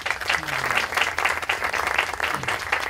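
Strong audience applause greets a guest at a round-table panel at a Catholic university in Peru: thick, loud clapping that pulses slightly, with faint murmurs underneath.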